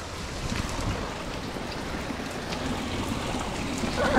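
Small waterfall at Carrington Falls gives a steady, broad rushing wash of flowing water, fairly close and constant, rising slightly at the very end.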